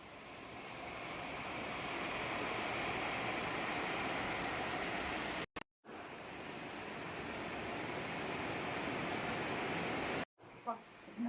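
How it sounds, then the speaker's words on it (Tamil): Heavy rain pours steadily in a dense, unbroken hiss at home in rainy weather, cutting out briefly twice before resuming loud and close. "ஸோ என்ன மாதிரி மழை."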